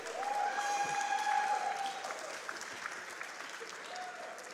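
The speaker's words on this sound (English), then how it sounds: "All right, you guys hear the cheering." An audience at a live speedrun charity marathon claps and cheers, a broad, fairly distant wash of applause that swells early and then holds steady, with a few faint tonal sounds above it.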